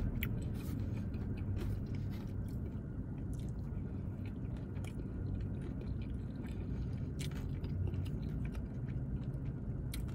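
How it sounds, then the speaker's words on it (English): Someone chews a pita filled with crunchy cucumber and tzatziki close to the mic, with continuous wet, squishy bites and crunches over about ten seconds and no talking. "You get the crunch from the cucumber."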